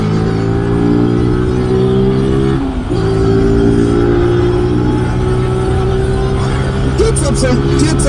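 A Zontes G1 125 scrambler motorcycle pulls away, its engine note climbing steadily through the revs. There is a brief dip partway through before it builds again, heard from nearby at a fairly loud level.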